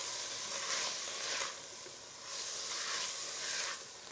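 Spices sizzle in a pan with mushrooms and onion for a mushroom soup, a steady frying hiss that swells and eases in broad waves as the food is stirred, with no voices.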